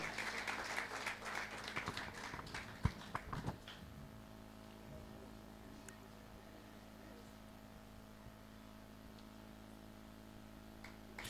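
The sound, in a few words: audience applause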